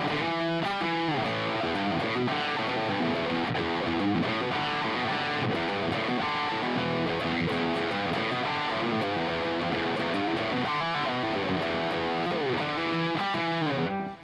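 An electric guitar plays through the HX Stomp's Fullerton amp model with the gain turned up, strumming a continuous stretch of gritty chords and notes up close, with no talking.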